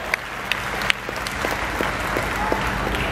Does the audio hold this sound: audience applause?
yes